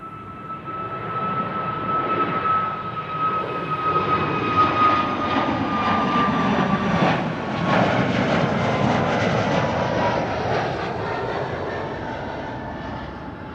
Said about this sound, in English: Iceland Air already was a bit lower in the sky when passing us by